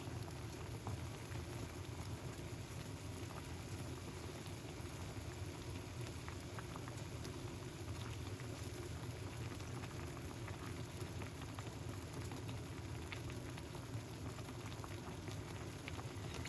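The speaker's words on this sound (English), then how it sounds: "So you guys can see that it's boiling." A pot of water for onion tea at a steady rolling boil, continuous bubbling and churning close by with no talking.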